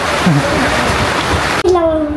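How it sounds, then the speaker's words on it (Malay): Heavy rain pours steadily outdoors as a dense, loud broadband wash, with a voice speaking over it partway through. "Oh, hujan pula."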